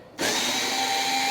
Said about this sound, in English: now we can go ahead and remove the 2 Phillips screws.